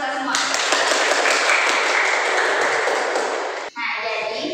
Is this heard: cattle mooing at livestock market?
no